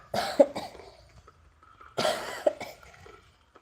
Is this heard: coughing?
yes